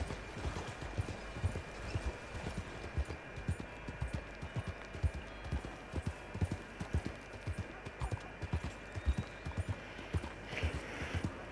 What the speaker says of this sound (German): Dann ich wieder mein Pferd ausreiten lasse und normal wieder